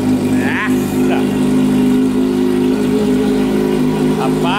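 A loud Corvette engine idles with a deep steady rumble, rising in a couple of quick revs, while a man exclaims over it.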